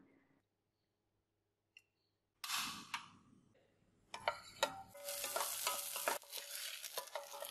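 Shallots frying in oil in a pot, a loud crackling sizzle that starts abruptly after near silence and continues with sharp clicks of stirring.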